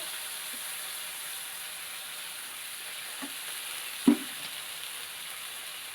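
Chicken manchurian frying in a pan as soy sauce and chilli sauce go in, a steady sizzling hiss with a few soft stirring clicks and one brief clunk near the end.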